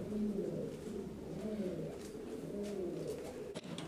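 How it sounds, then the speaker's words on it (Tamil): A Strasser pigeon, a European fancy breed, gives a steady run of low, throaty coos in a loft, repeated rolling phrases close to the microphone with a faint background hum. "இந்த புறா பேர் ஸ்ட்ரேசர்"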